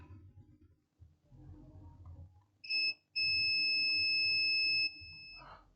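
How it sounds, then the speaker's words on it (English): A high electronic tone sounds once briefly, then again in a long, loud continuous beep over faint rumbling noise, while testing components during repair of an Itel A48 phone. "This one is beeping."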